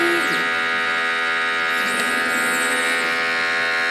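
A DTF printer running a nozzle check print, a steady electric buzz and hum with a whirring print-head pass sweeping through, close and continuous with no talk.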